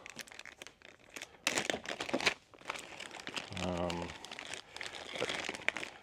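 Shrink-wrapped plastic bag holding a couple of Allen keys, packed with a Diana XR 210 pre-charged pneumatic air rifle, crinkles and rustles in bursts close by, with handling noise and brief talk mixed in.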